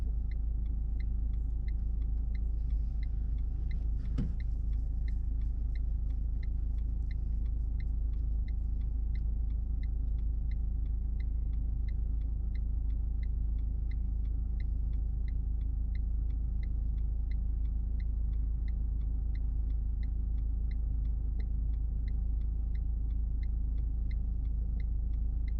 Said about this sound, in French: Une Fiat? C'est la voiture qui fait ça.